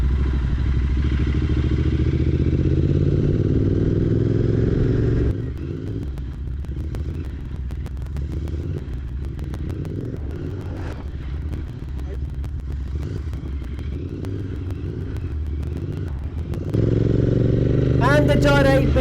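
A Royal Enfield Continental GT 650 motorcycle pulling away and accelerating on a road in Dubai, with a strong low engine rumble and rising revs through a gear change, heard up close under someone talking.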